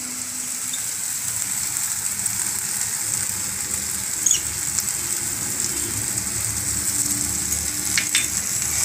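Masala for shahi butter paneer frying in a pan with kasuri methi while being stirred: a steady, close, moderate sizzle with a few light scraping touches.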